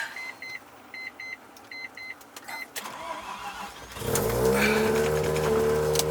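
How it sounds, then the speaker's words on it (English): Soft dashboard chimes repeat in a steady pattern, then a Mazda RX-7 engine cranks and catches on a cold start, settling into a loud rough idle that continues. "I'm gonna start the car up."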